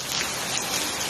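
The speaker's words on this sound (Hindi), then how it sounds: "मध्य प्रदेश के कई जिलों में जमकर बारिश हुई" Heavy rain with hail falls in Madhya Pradesh, heard as a dense, even hiss of water striking surfaces, continuous and fairly soft.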